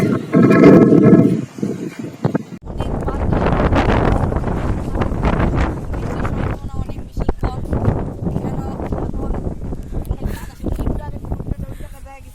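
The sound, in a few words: strong wind blowing on a rooftop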